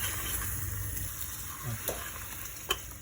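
Steady, faint sizzling hiss as tomato paste is added to boiling Arabaşı soup in a pot, with a few soft stirring clinks near the end.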